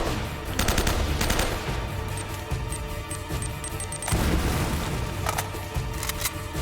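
Enemy gunfire in Uncharted: Drake's Fortune rattles in loud bursts of automatic fire, two dense volleys separated by scattered shots and ringing impacts.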